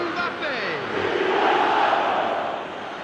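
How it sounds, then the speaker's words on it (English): Stadium crowd in a football video game swells into a sustained roar after a goal, a dense, steady wall of cheering voices with a faint voice heard early on. "the crowd level has gone up a notch or 10"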